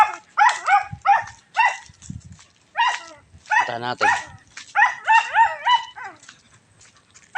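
A pet dog barks and whines in short repeated bursts with yelping and whimpering tones, close and loud. A person speaks briefly between the barks.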